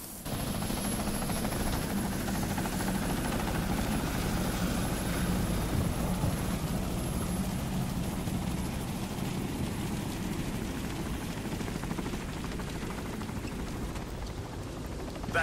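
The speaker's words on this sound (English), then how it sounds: "Hear a chopper." A helicopter in the video game Deadlight drones steadily overhead, a dense continuous rotor and engine roar that stays loud and even throughout.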